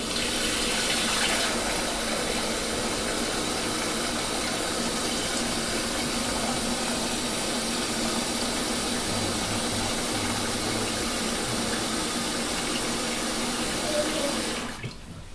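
Hot tap water runs hard into a container for about fifteen seconds, measuring out a gallon in a steady loud rushing splash, with no talking, before cutting off near the end.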